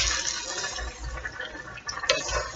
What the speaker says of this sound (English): Starting out with a half a cup of water, plus the water that's going to come off the spaghetti